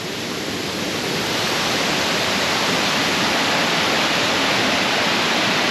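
Continuous roar of a large waterfall in Laos, a loud, steady broadband rush of falling water that fills the whole span without any break or voices.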